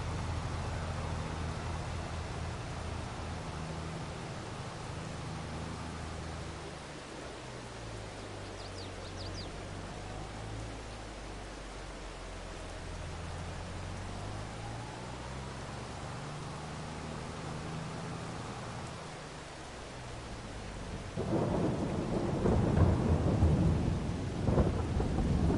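Rain with rolling thunder in the Farming Simulator 22 farming video game on PS4, a steady hiss of rainfall with low rumbling thunder throughout and a louder burst near the end, no talking.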